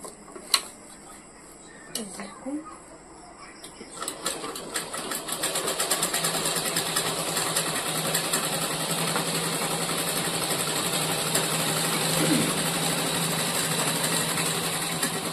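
Sewing machine stitching a bag cut from a rice sack, starting with a few clicks before settling into a steady, close, rapid whirring hum that continues evenly to the end, with faint thumps at the start.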